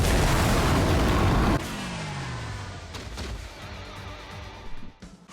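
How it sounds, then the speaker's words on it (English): A loud, dense roar from Bleach Brave Souls' Soul Bomb game animation cuts off abruptly, then a descending whoosh, scattered booming impacts and a final crash follow, with no talking. "I'll play a Soul Bomb animation"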